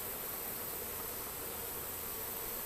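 A swarm of honey bees buzzes as a dense, continuous hum that holds the same level throughout, with no talking.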